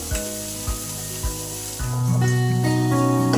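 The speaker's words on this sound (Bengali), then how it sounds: "পেঁয়াজটা হাফ ভাজা হয়ে গেছে" A pan sizzles steadily as onions fry, with a few clinks of a utensil at first, then the hiss grows louder and fuller.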